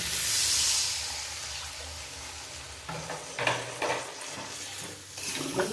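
Fish curry with green tomatoes sautéing in a pan: steady frying hiss throughout, joined midway by a cluster of scraping, clattering stirring strokes, close and fairly loud, with no one speaking.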